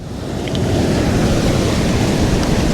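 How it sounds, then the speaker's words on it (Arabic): Sea waves crash against rocks on a shoreline, a loud continuous roar of surf and spray blended with wind buffeting the microphone, with no voices. "كيهرس عليه الموج"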